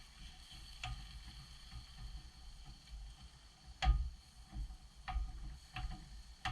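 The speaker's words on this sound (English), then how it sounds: "we're going to brown this burger so it's completely cooked through" Ground beef browning in a pan for goulash, a soft low steady sizzle with occasional sharp clicks and scrapes of stirring, fairly faint and close, with no talking.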